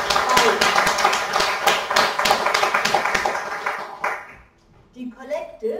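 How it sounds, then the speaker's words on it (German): Applause in a church after an Advent devotion, clapping crowd under a quiet voice for about four seconds, then fading into short bursts of sound. "Großer Applaus für euch."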